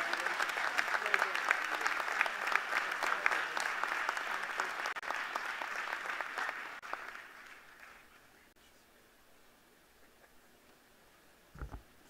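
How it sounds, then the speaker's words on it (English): A congregation at a university presidential installation ceremony gives a sustained round of hand clapping that holds strong for several seconds, then fades out, leaving near quiet with a brief knock near the end. "give him a hand clap of praise"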